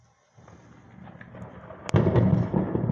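Sharp, dry thunder in a heavy storm, with rain pattering before a sudden crack that breaks into a loud, rolling rumble lasting to the end.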